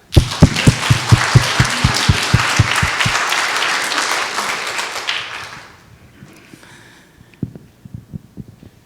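A church congregation at a Houston Korean Sunday service bursts into applause of thanks, starting with a few loud sharp claps that swell into dense clapping, then fade out around five seconds, leaving scattered taps.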